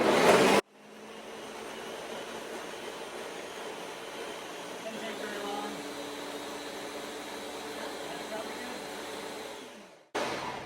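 A food processor purees hummus with a steady, continuous whirring motor drone that runs unbroken for most of the stretch, then stops near the end.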